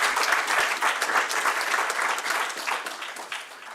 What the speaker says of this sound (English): can we give a huge round of applause to all the participants and all the panel members who are present today